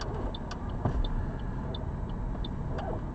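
A car's turn indicator clicks steadily from inside the cabin while the car pulls in to park. The crisp, evenly spaced ticks sit over a low engine and road hum.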